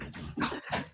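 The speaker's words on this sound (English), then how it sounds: "My dogs are trying to bark and tell me that your daughter's here" Small dogs make short whimpering, strained half-bark sounds indoors, two or three muffled yelps close by with no clear speech.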